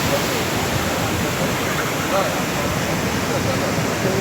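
Rough afternoon sea waves at Kovalam beach, a loud, constant broadband roar of surf with no breaks and no talking.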